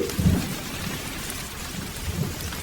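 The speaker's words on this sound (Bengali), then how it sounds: "খুব জোরে জোরে মেঘ ডাকতে শুরু করলো।" A thunderstorm in rural Bengal at night, with heavy rain pouring steadily and deep rumbles of thunder swelling near the start and again toward the end, with no voices.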